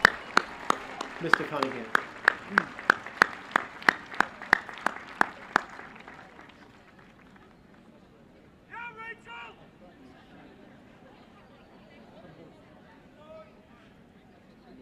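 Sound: applause for concert groups at a high school graduation

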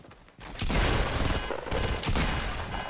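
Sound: gunshots in Trashnite Royale video game

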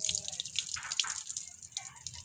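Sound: water while washing rice

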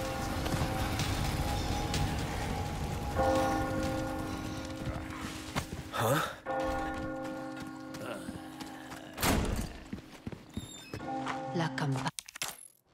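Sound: church bell ringing in video game Resident Evil 4 Remake

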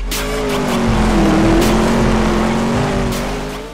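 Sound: two-seater sprint car racing

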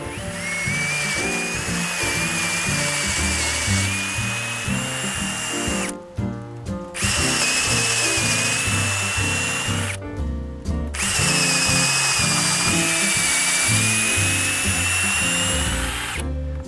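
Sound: power drill drilling through wood joist

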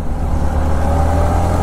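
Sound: BMW car driving past

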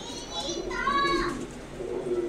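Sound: pigeons cooing

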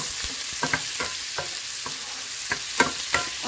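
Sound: garlic and onion sautéing in a pan

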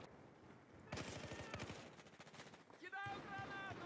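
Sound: Glock pistol gunfire in Battlefield video game

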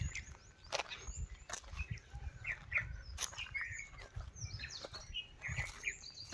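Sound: birds chirping in quiet temple grounds

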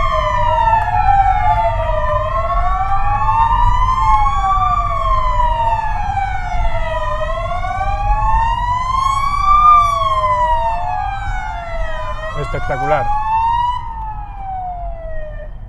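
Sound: emergency vehicle sirens in tribute to health workers

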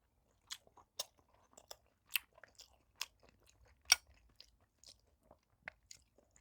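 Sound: chewing cheonggukjang stew with tofu, rice and meat

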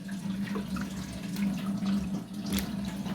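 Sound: water washing watermelon rinds in a bowl

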